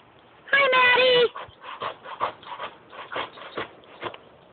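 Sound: dog whimpering

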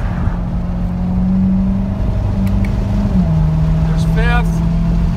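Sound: Chevrolet Corvette C7 Stingray engine during manual paddle shifts

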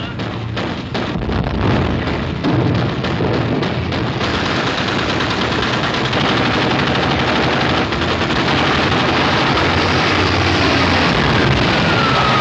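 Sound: gunfire from warship guns, war film

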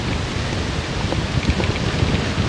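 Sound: strong wind on golf course

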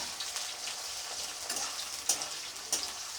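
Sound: onion and garlic frying and being stirred in hot oil

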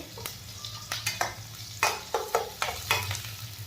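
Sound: chopped green chillies frying and being stirred in a pan

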